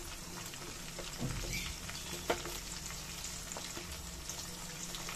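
Chopped onions fry in a pan over a medium gas flame for a Singapuri chicken dish, making a faint, constant crackling hiss with an occasional soft stirring knock.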